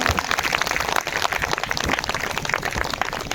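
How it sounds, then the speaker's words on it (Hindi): Sustained applause welcoming guests at a Buddha katha event in Sikandarpur, a dense continuous crowd clapping heard close and loud throughout, with no talk over it. "जोरदार तालियों के साथ"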